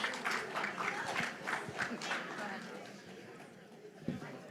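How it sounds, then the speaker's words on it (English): Audience applause at a public meeting on a SoHo/NoHo neighborhood report, a steady wash of clapping mixed with chatter and voices, fading slightly toward the end. "we ask that you all be respectful and also keep applause to a minimum"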